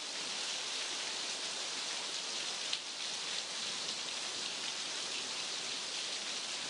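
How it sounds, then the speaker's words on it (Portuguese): Steady rain falls in an even, dense hiss, a soft continuous wash of drops used as a sound effect in a lesson, with no voices. "Olhem para a chuva. Chuva na tela."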